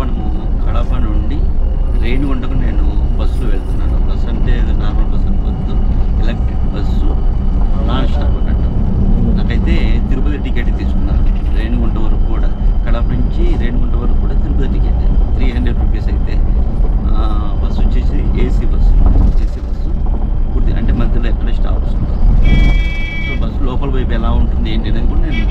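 Road noise from inside a bus travelling from Kadapa to Renigunta: a continuous low engine drone and rattle throughout, with a hiss of air brakes near the end and a person talking over it.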